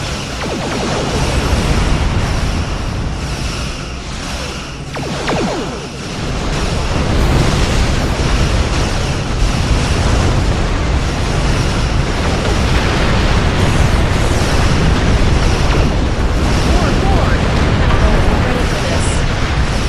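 Weapons fire and explosions roar through a Star Trek Online space battle against the Borg, a loud continuous rumbling wash with bursts and swells, with voices talking over parts of it.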